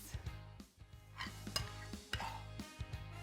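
Grandma's stuffing scooped out of a dish for a leftover Thanksgiving casserole, with soft repeated scraping and wet squishing scoops in quick irregular strokes, close and fairly quiet.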